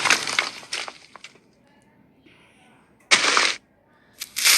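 Explosions go off in a Minecraft-style block-building video game, loud broadband blasts crashing in at the start and again around three seconds and near the end, with quieter gaps between and no talk.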